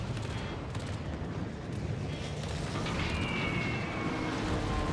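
Dense, continuous rumble of flak bursts and gunfire in the World of Warships naval battle game, a steady loud barrage of overlapping blasts with no clear gaps for the full length.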